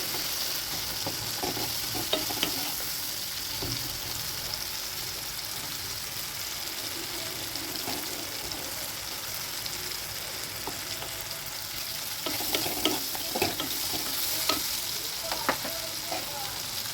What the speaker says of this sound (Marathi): सर्व डाळ ही त्याच्यामध्ये टाकून छान लालसर रंग येईपर्यंत हे डाळ आणि सर्व कांदा टोमॅटो एकत्रित करून छान असं परतून घ्यायचं आहे